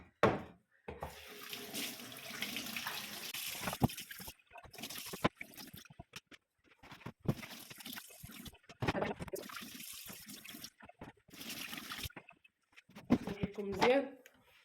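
Tap water running into a sink while vegetables are washed, flowing in long bursts that stop and start, with someone talking over and between them.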